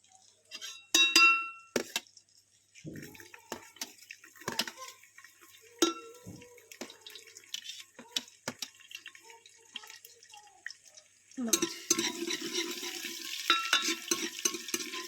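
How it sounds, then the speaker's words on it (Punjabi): Garlic frying in a pan, with crackling sizzles, scraping and clinks of a spoon stirring against the metal, bursts of sizzle growing denser and louder toward the end. "ਪਹਿਲਾਂ ਪਾਵਾਂਗੇ ਲਸਣ"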